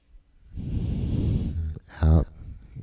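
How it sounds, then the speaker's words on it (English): Deep yoga breathing into the chest, a long audible breath followed by a short voiced sigh or exhale, close and intimate. "Breathing into your chest."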